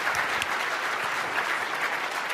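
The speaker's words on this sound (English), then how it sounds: "give him a round of applause" Audience applause fills the room, steady dense clapping from a crowd, moderately loud and continuous throughout.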